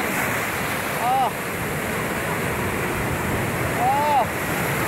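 Big waves crash during a strong northeast monsoon wind near a small boat, in a loud, continuous roar of surf and gusting wind that swells twice, up close, with a voice calling out.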